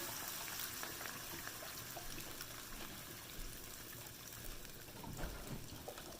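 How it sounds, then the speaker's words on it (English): Chicken broth is poured into a slow cooker while making Vietnamese beef stew, a continuous wash of liquid splashing and trickling over steady background noise, faint and unbroken for several seconds. "So just pour the chicken broth over here."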